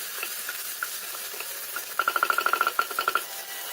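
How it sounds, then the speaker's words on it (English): Tomato frying with ginger garlic paste in a pan, a soft sizzle with a run of quick, close stirring scrapes in the second half. "Next goes in the tomato. Fry the tomato well."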